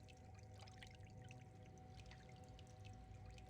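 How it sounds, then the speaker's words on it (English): Running water in the video game Prince of Persia: Sands of Time, a continuous pouring, splashing rush mixed with a low hum, faint and steady throughout. "when you hear the sound effect of the water happening"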